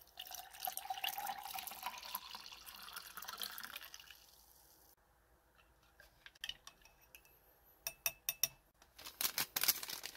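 Water is poured into a British 12-hour operational ration pack meal pouch, first as a soft, steady trickle and then as scattered crinkly rustles of the pouch, all faint and close, with no talking.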